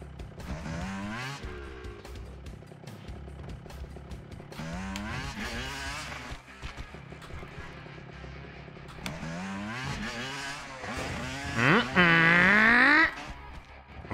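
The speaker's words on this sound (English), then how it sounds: "Turning into a motorbike." Revving motorbike engine noises from the video game Trials 2, rising and falling in pitch through several bursts, loudest in a sharp whine near the end, with no one talking.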